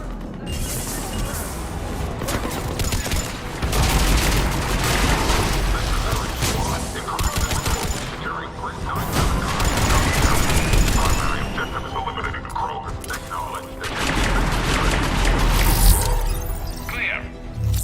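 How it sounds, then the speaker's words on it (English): Video game gunfire in a Mass Effect 3 battle, with dense, continuous weapon fire, crackling bursts and blasts layered over game music and ambience, while game characters' voices speak over the combat. "Taking enemy fire."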